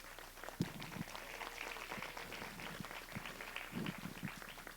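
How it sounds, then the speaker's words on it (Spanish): Applause from the audience at a Mexican cinema yearbook presentation, a soft, distant wash of many hands clapping with occasional closer, sharper claps, continuing for several seconds. "un aplauso."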